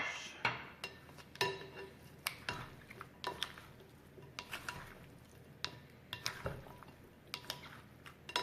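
Tofu feta is mixed with sauce in a dish, making a series of quick, irregular clinks and scrapes of a utensil against the dish. The sounds are close but fairly quiet, with no speech.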